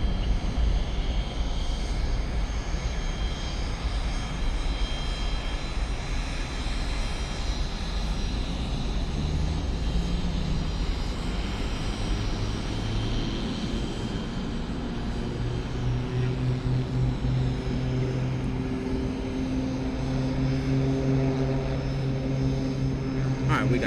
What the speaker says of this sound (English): We got Cape Air on the move on the runway.